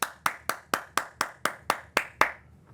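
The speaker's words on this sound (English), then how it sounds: "A round of applause." On a late-night talk show, about ten sharp, evenly spaced hand claps ring out close and clear in a steady rhythm, then stop.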